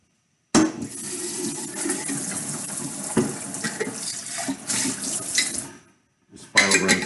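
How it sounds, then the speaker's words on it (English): Tap water runs steadily into a kitchen sink while an emptied salmon can is rinsed under it, the splashing stopping briefly near the end before the flow starts again. "Let me give this a rinse."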